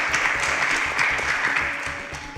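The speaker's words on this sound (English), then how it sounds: "Please a round of applause" Applause from a game-show audience as contestants leave the stage, a steady dense wash of clapping with music or background sound pulsing underneath.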